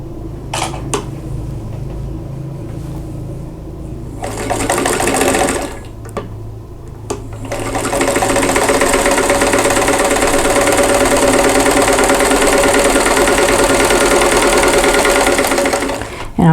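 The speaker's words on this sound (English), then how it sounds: "sew 1/4 inch away on both sides of that drawn line" Domestic sewing machine stitching quilt squares for an hourglass block, with short bursts of whirring and clatter, then a long steady run of fast stitching at close range, all without voices.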